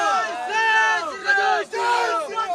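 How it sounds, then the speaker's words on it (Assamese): Supporters at an election campaign rally in Bijni shout slogans together, loud overlapping voices in rhythmic bursts with a brief dip before the chant resumes. "গতিকে স্বাভাৱিক সকলোৱে শ্লোগান দি আছে"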